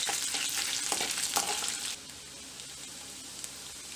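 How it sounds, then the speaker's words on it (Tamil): Garlic sizzles briskly in a hot pan for poondu kulambu, bright frying crackle with stirring for two seconds before settling to a quieter, steady simmering hiss. "பூண்டு நல்லா வெந்து வந்துட்டு இருக்கு."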